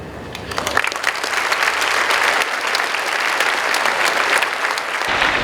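A school Veterans Day program audience breaks into loud, sustained applause, a dense wash of clapping that swells after a quieter start and continues steadily throughout.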